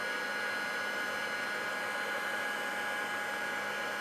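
An embossing heat tool blows steadily while melting embossing powder for card making, a constant close-up whooshing hum with no change in level and no voices.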